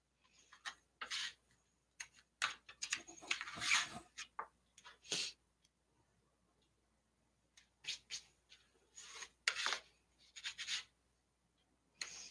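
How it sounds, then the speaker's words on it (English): Tape is burnished down onto a wallpaper-covered book cover, heard as short, quiet bursts of rubbing and scraping in a few separate groups, close up with silent gaps between. "I like this because I can burnish as I go along, and it also gives me a nice straight cut on my tape"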